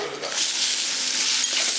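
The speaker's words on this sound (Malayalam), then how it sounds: "എന്നിട്ട് നമുക്കിനി ചക്കക്കുരു ഇട്ട് കൊടുക്കാവേ" Jackfruit seeds hit a hot oiled pan for a stir fry, and a loud sizzle rises quickly and holds steady. Faint scraping sounds of stirring come through the frying hiss.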